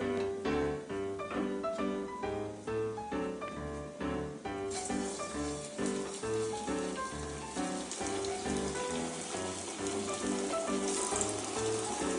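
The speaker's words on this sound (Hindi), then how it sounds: "अब इनको हम फ्राई करेंगे। अब तेल गर्म हो गया है" Potato and pea masala bread rolls fry in hot oil, giving a steady, close crackling sizzle that runs throughout beneath louder background music.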